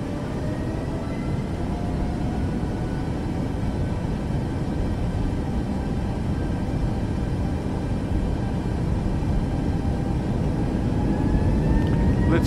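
In Microsoft Flight Simulator 2024, the engines of a Boeing 737 MAX spool up and hold a loud, steady jet roar with a faint rising whine, continuous and unbroken, with no voices over it.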